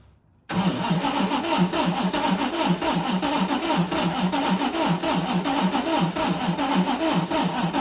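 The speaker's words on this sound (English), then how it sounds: "I got to actually squirt some fuel in it to get it running again." A heavily modified extreme street car engine cranks and fires after a squirt of fuel, then settles into a loud, steady, lumpy idle with a rapid pulsing rhythm, close up and alone.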